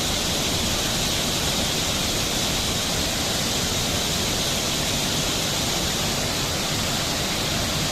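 Rushing water of Kempty waterfall near Mussoorie, Uttarakhand, roaring as a steady, loud broadband wash with no pauses and no voices.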